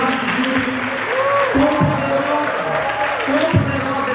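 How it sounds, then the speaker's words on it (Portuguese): Church congregation applauding during a worship service, steady clapping mixed with voices and tonal sounds that may be music or singing. "Agora você pode aplaudir o Senhor, você pode dar um brado de júbilo"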